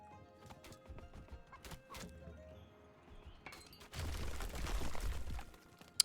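Cavalry hooves clatter in Age of Mythology, Golmang White Horse Archers or Cavalry on the move, a run of clip-clop beats with a horse whinny, building into a louder, denser thunder of hooves near the end.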